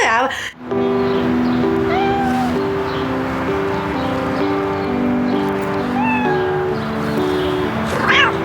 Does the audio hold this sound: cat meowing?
yes